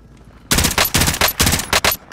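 Automatic rifle fire in Call of Duty: Modern Warfare rings out in several loud, close bursts of rapid shots separated by short gaps, with no voices over it.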